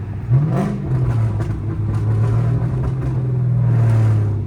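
A Chrysler 300C with a catless straight-pipe exhaust revs up and holds a rough, raspy drone, close and loud, easing slightly before rising again.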